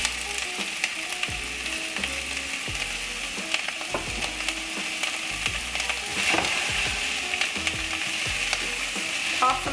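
Onions sauté in olive oil in a saucepan over medium heat, giving a steady close sizzle with frequent scraping and stirring clatter as they are tossed, without talk.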